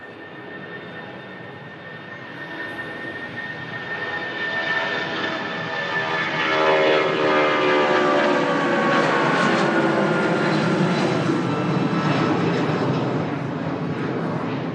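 Jet2 aircraft engines at Manchester Airport, a steady roar that builds over several seconds and then holds loud and close, with a whining tone on top and no talk.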